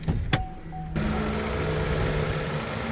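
A Chevrolet Tracker LT with GM's 1.0 three-cylinder, 116 hp engine idles steadily and loudly up close, a buzzing, even drone after a few brief clicks at the start.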